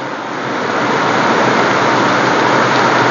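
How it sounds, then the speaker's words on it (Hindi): Heavy rain falls outdoors near a roadside dhaba, a loud, dense and steady wash of noise that fills the whole stretch without a break and with no voices. "हठात वर्षा हो गला, कारण वर्षा मास आसीगला।"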